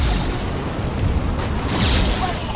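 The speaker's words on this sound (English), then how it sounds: "Concussive shot ready." A concussive shot ability fires in Mass Effect 2 as one continuous loud, heavy booming blast, dense and rumbling throughout with no voices.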